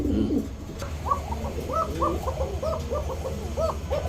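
A pigeon coos repeatedly, soft rounded calls in a steady series over a low background hum.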